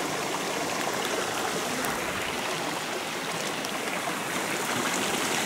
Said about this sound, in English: The hole that I told you about is a little further up, and the stream comes out here.